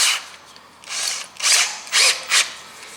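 A power drill bores through a door while a keypad deadbolt is fitted, running in several short bursts that rise in length and grow louder, with brief pauses between them, close up and with no talking.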